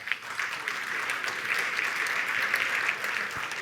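A crowd at an awards gala for fleet and mobility applauds the third-place winner, Lisplan, with sustained, fairly close clapping for nearly four seconds.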